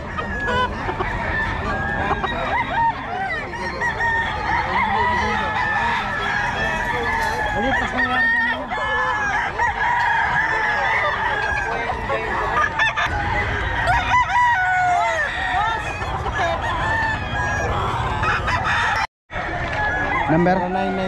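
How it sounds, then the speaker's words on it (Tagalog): Several roosters crow repeatedly amid clucking poultry at a chicken market in Bocaue, with people talking in the background throughout. "Ito yung mga manok, ito yung mga manok niya"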